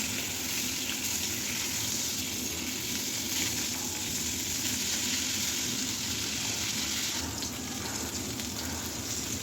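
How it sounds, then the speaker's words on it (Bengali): Continuous hissing sizzle of sarpunti fish, coated in turmeric and salt, frying in hot oil, steady and fairly loud throughout, with no talking. "সরপুরি মাছটা ভোনা করব সেটাই হলুদ আর লবণ মেখে একটু কড়া করে ভেজে নিচ্ছি"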